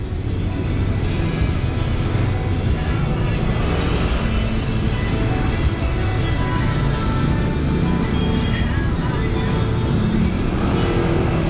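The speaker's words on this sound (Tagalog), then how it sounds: "ito na tayo ulit sa road ng lagi may traffic" Steady road traffic rumbles around a moving vehicle on a congested road home, a dense, loud, unbroken roar of engines and road noise without speech.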